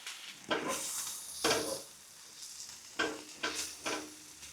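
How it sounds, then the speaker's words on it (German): Onions and flour sizzle softly in a pan while a utensil stirs and scrapes in several separate strokes, close up with no talking. "Jetzt nehmen wir uns das Mehl, verteilen das gut und lassen das Ganze leicht anschwitzen."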